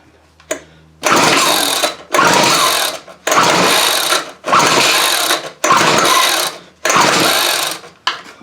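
Weed Eater XT600 string trimmer engine running off choke, loud and close, surging in six sustained revving bursts with brief dips between them.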